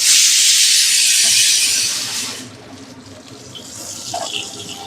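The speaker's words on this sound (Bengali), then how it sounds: "ওর জন্য ঠান্ডা জল ভরে রাখি" Cold water gushing from a tap into a container, a loud close hiss for about two and a half seconds, then a quieter trickling splash as the flow eases, with no talking.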